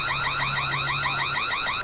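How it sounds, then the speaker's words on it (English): Outdoor alarm siren on a Reolink Altas security camera, a loud, steady warbling electronic wail that repeatedly sweeps up and down in pitch, sounding alone and close without pause. "Selecting this and then tapping here will turn on the alarm outside"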